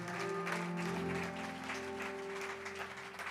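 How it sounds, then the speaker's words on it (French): A congregation at a religious gathering applauds in a sustained, even wash of clapping over a steady sustained musical tone in the background. "Est-ce que je peux avoir une acclamation ici?"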